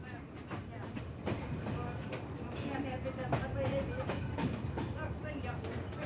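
A passenger train runs on the line between Shkodra and Tirana in Albania, its wheels clattering steadily over the rails from inside a carriage, with low rumble and occasional knocks.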